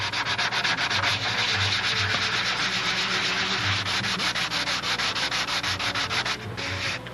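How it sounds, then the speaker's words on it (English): Hand sanding the wing joint of a model aircraft along the cap strip edge, a close, continuous rhythmic scratchy rubbing with quick regular strokes and no talking. "Get the joint between the cap strip as nice as I can. Get the edge, but don't sand down onto the tissue."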